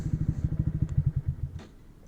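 A Honda Grom motorcycle idles with a close, rapid low putter as it is parked, the pulsing engine note cutting off and leaving faint background noise.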